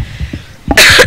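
A loud, sharp cough bursts out alone near the end, following a stretch of quiet low voice murmur.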